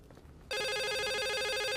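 A telephone rings in a horror video game, a loud electronic trilling ring that starts abruptly after a short quiet moment and continues steadily.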